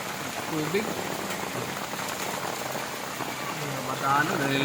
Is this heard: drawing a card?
no